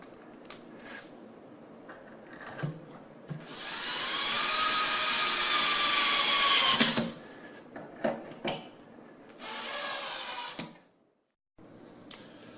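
A power drill drives screws into a wooden table during a repair, with a loud sustained whir of about three seconds followed by shorter bursts, clunks and handling knocks, and a brief moment of silence near the end.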